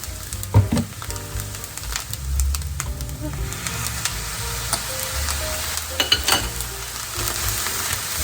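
Brown rice fried rice sizzles steadily in a pan as soy sauce is added, with a continuous close crackle punctuated by sharp clinks and scrapes of a utensil.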